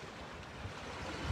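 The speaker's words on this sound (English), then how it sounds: "This water's not clear as crystal. It's the Ohio River." Water of the Ohio River heard as a steady wash of lapping waves and surf mixed with wind buffeting the microphone, continuous and fairly close, with no talking.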